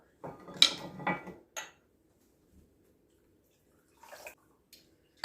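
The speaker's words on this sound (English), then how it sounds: "So pour that in there with the cream of coconut" Coconut rum poured into cream of coconut in a home kitchen for a piña colada cake: a short, close splashy pour near the start, then a quick clink and a few faint, sparse splashes and taps with quiet gaps between.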